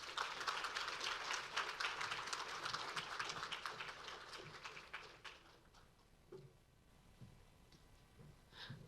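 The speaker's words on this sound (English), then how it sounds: "Let's give her a huge round of applause." Audience applauding at a Black History Month showcase event, dense clapping that fades after about five seconds into a few scattered claps and room murmur.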